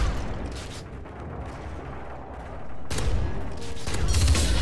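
Gunfire in Modern Warfare 2 during a sniping match, a dense roll of rapid distant shots and rumbling bursts that swells louder toward the end, with no talk over it.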